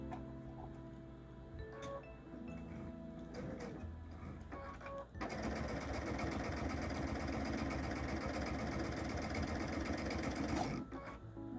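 A sewing machine stitches quilt pieces, first in a few short starts among clicks and handling noises, then running steadily in a loud, fast, continuous whir for several seconds before stopping.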